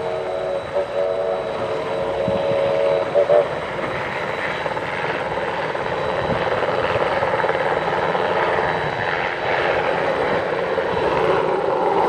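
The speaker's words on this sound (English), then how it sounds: "Meantime, a helicopter takes off for one of its rides around the facility." A helicopter lifts off at a railroad facility, its broad rotor-and-engine roar steady and fairly close throughout, with brief faint voices early on.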